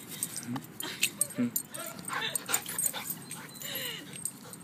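A dog whimpers and yips in short, high-pitched bursts indoors during a home Pilates workout, with scattered noises and a person talking around it.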